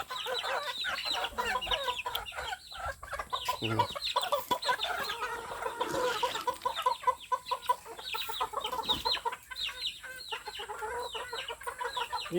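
Several chickens cluck and squawk in bursts, close by and busy, with overlapping calls and no one talking.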